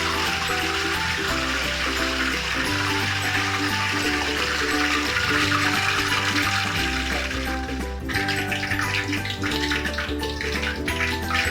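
Continuous rushing hiss of water hitting a hot wok-style pan, loud and close, with a low steady hum underneath.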